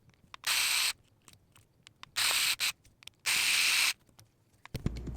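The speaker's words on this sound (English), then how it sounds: "I jumped to the power tool." Power tool driving out screws on an RC drift car chassis, three bursts of whirring rotation, the last one longest, separated by small clicks and handling noise, close and fairly loud.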